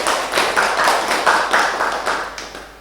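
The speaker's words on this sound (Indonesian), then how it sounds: "Kita berikan aplaus." A small group claps after a class group presentation, a close burst of quick rhythmic clapping lasting a few seconds.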